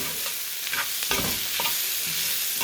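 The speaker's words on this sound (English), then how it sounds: "And then we're just going to give it a stir, release some of that aromatics in there." Chili powder being stirred into pork in a pot: a few scraping stirs over a steady soft sizzle, close and moderately loud, with no voices.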